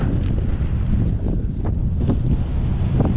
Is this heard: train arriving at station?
no